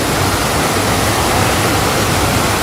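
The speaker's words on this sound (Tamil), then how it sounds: "அடிதடி அப்பத்தங்கிற மாதிரி விழுது தண்ணி, தட தட தட தட தட தடன்னு" The Athirapally waterfall in Kerala pours down in a dense, steady roar of crashing water, loud and close, unbroken throughout with no voices.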